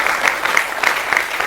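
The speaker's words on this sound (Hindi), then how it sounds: "जोरदार तालियों से उनका स्वागत करें।" Loud applause welcomes a guest in a televised studio debate, with dense, steady clapping from a close crowd and no voices over it.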